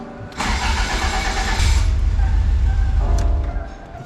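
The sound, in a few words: car engine cranking and turning over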